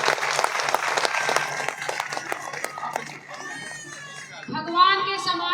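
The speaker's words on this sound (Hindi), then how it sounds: "एक बार तालियों के गड़गड़ाहट से बताएंगे" A crowd of women at a gathering claps in a steady burst of applause, fairly close and lively, fading after a few seconds as a voice and children's sounds come through.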